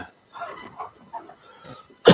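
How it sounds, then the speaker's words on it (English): A single sharp, loud cough bursts out at the very end, after a stretch of quiet, soft breathy sounds. "See, it's like a cough."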